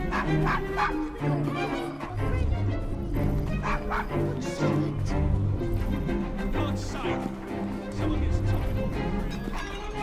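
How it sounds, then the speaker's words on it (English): A dog barks in Assassin's Creed Syndicate near an old pub, its yaps blended into a dense, continuous wash of game music and ambience, with faint voices underneath. "He's a good doggy."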